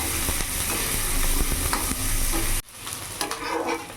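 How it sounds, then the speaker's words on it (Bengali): Chopped onion and green chillies fry in oil in a pan, a loud, steady sizzle with stirring scrapes that drops off abruptly near the end, leaving quieter crackling and a few clinks. "পেঁয়াজটা একটু ভাজা ভাজা করে নেবো যাতে পেঁয়াজের কাঁচা ভাতটা চলে যায়"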